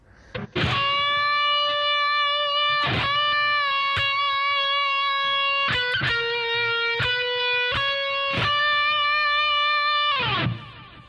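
A bass guitar with effects plays a sustained melodic line in E Lydian flat 7, a few long held notes with bends and picked attacks, loud, close and alone, fading out at the end.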